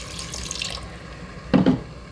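Water poured from a container over beef in a pressure cooker while making Shan Masala beef nihari, heard as a short close splashing pour lasting about a quarter second after a quieter stretch of kitchen hiss.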